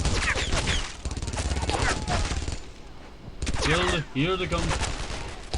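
Machine gun fire in the World War II video game Brothers in Arms: Earned in Blood, with loud sustained bursts of rapid shots that break off briefly and resume, while someone speaks briefly over the battle.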